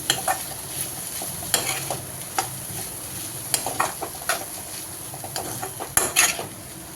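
Green beans mixed with masala are stirred in a pan for poriyal, with frequent close scraping and clinking of a spoon against the metal over a soft continuous sizzle.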